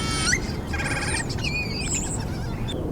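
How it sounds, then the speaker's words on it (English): Birds in an Italian cypress tree chirp and whistle in short, high, scattered calls over a steady outdoor background hum, moderately close and with no talking. "There must be 100 birds in that Italian cypress up there."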